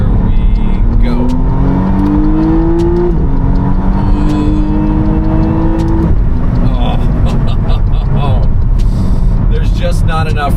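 A 2025 McLaren Artura Spider's twin-turbo hybrid engine climbs in pitch toward its redline, with quick shifts cutting the rising howl at intervals, loud and close, while people talk over the engine.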